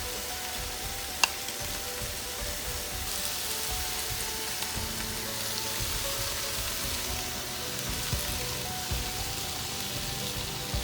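Bok choy sizzling in a hot pan with shrimp, a steady close crackle of frying with occasional stirring clinks and no talking.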